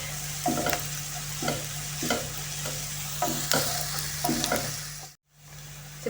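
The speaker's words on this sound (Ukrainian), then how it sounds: "Моркву з цибулею, коли тушимо, то потрібно час від часу перемішувати" A utensil stirs carrots and onion stewing in a sizzling pan, scraping in regular strokes about every half second over a steady frying hiss and low hum.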